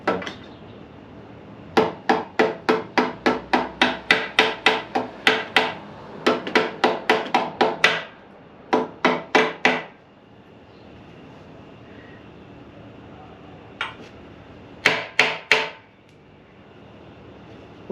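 A mallet strikes the fork of a 1978 Yamaha XS750 Special motorcycle during fork seal replacement, sharp metallic knocks in rapid bursts of several blows, then a few isolated taps, close and loud with quiet gaps between.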